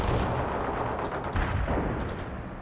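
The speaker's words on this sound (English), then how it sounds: "Artillery strike on our target now." Artillery strike in World in Conflict, a dense sustained barrage of booming impacts and rumbling blasts, loud and continuous throughout with no gaps.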